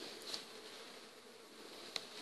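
Honeybees on an open hive frame make a soft, continuous buzzing drone, faint and steady with a few brief louder passes close by.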